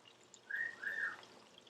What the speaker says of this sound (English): That is our bird whistling at me.